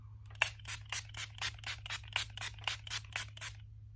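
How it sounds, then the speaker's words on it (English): An e.l.f. Dewy Setting Mist bottle is pumped onto a face: about a dozen quick, evenly spaced hissing sprays, close and crisp over a low steady hum. "Let me just spray. This is the e.l.f. Dewy Setting Mist."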